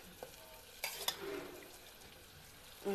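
Paratha frying in refined oil gives a low, steady sizzle with a few sharp crackles and spatula scrapes near the start, ending on a louder burst near the end. No one speaks.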